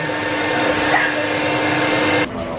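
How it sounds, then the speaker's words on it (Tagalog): A pet blower dries a dog after grooming, producing a loud, steady, close-up roar that runs continuously and then abruptly drops away near the end. "Yung blower na para matuyo."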